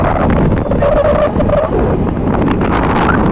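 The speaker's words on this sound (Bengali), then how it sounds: "কি হাওয়া, ওফ দারুণ হাওয়া দিচ্ছে।" Strong wind blows steadily at the seashore at Bakkhali, roaring as a continuous loud rumble close to the microphone, buffeting it throughout with no break.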